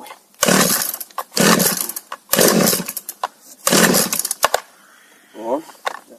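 Someone makes first-start attempts on a GoodLuck GL4500C petrol chainsaw, fuelled with a gas-and-oil mix and lacking a primer. Four loud, close, rough bursts of half a second to a second are separated by short pauses, ending in a fainter sputter.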